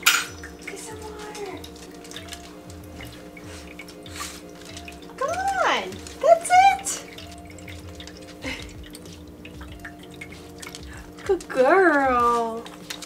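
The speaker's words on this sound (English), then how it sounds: "Like a little more so than just the water dripping, you kind of hear the motor" A dog water fountain's water drips and trickles over a low steady motor hum, with people talking intermittently nearby and a few light clinks.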